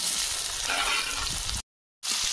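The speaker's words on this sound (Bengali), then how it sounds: "কড়াতে সর্ষের তেল দিয়ে দিয়েছি, তেল গরম হয়ে গেছে, পেঁয়াজ কুচি দিয়ে দেবো" Chopped onion fries in hot mustard oil in a wok, giving a steady, close, bright sizzle that cuts out briefly and then resumes. No voices.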